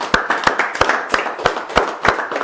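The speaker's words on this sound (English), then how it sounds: "let's have a big round of applause." Rhythmic, unison clapping from an audience at a magic show, strong evenly spaced claps roughly three per second, close and fairly loud with little talk.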